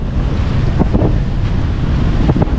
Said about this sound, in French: on a le vent qui vient de se lever là